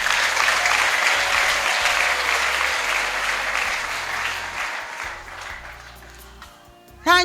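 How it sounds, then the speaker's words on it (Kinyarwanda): A church congregation applauds in praise of Jesus, sustained loud clapping that gradually thins and fades toward the end before a sudden louder burst at the very close. "Mwamukomeye amashyi Yesu."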